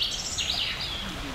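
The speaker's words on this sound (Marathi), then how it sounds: "म्हणजे तुम्हाला पक्ष्यांचा जो आवाज येतो आहे ना" Birds call in a forest with a few thin, sweeping chirps. They sound fairly close over a soft background hush.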